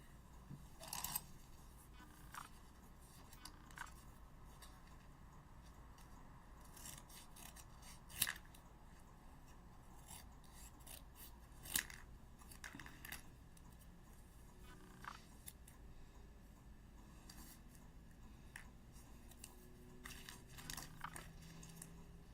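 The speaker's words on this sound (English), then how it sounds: "let's see if we can just use the big paper cutter" A big paper cutter slices through paper in a series of crisp cuts and snips spread across the clip, with sharp clacks around the middle, set over quiet rustling and handling noise in a calm room.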